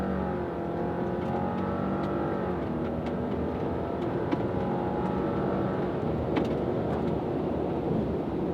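A Honda Accord 2.0T pulls hard in a drag race against a Subaru Legacy GT, its engine a steady, sustained drone under heavy wind and road roar that holds an even level throughout.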